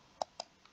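A computer mouse clicks twice in quick succession while filling out an online job application, then gives a fainter third click, crisp and close.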